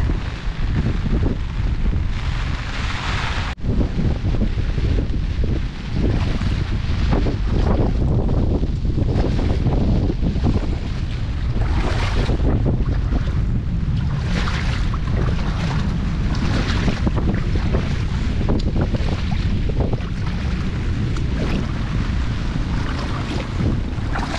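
Strong wind roars steadily across an open rice paddy, a loud, unbroken rush with gusty swells throughout and no speech.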